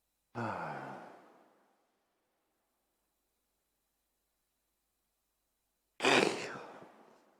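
Two breathy exhalations, widely spaced: a long drawn-out yawn-like sigh, then silence for several seconds before a second, louder breathy burst.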